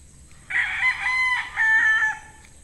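A bull stag, a young rooster, crows once nearby and loud, a long wavering call with a brief dip midway before it trails off, over a faint low background hum.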